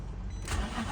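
An Infiniti G-series engine, on a car with a stall-after-idle fault, cranks and catches in a short rough start, heard close with a burst of noise as it fires.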